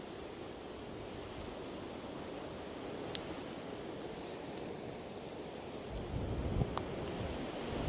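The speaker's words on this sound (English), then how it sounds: "the wind is blowing a mental one" Strong winter wind blowing across an exposed spot on the Causeway Coast near a monument, a broad continuous rushing roar buffeting the microphone, with a few faint clicks and a brief gust swell near the end.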